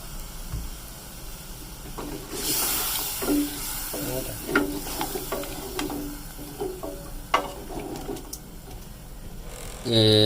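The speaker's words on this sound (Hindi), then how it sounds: "अब इसमें पानी हम ऐड कर देंगे।" Water poured into beef karahi masala sizzling in a pan in a home kitchen gives a loud steady hiss and crackle with stirring clatter, close up, ending in a sharp burst near the end.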